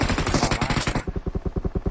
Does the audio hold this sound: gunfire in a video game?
yes